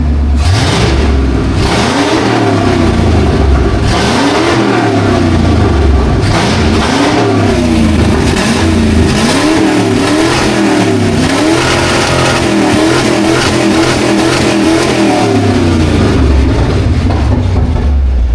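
A loud Ford V8 car engine revs hard again and again, rising and falling in pitch, throaty and close, with no talking.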